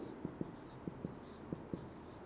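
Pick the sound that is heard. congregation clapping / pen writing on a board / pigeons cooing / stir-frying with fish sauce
pen writing on a board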